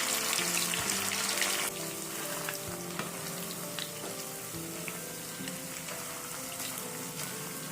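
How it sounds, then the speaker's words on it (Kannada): Pieces of chicken deep fry in hot oil with a steady, continuous crackling sizzle, heard close and alone, with occasional louder pops and clinks. "ಅದನ್ನು ಎಣ್ಣೆಯಲ್ಲಿ ಹಾಕ್ಕೊಂಡು ಫ್ರೈ ಮಾಡ್ಕೊತಾ ಇದ್ದೀನಿ. ಡೀಪ್ ಫ್ರೈ ಮಾಡ್ಕೊಬೇಕು."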